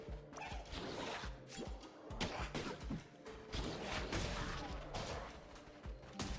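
Objects explode in the video game Cult of the Lamb, setting off a rapid series of loud cracking blasts and thuds layered with game music and effects, dense and continuous throughout.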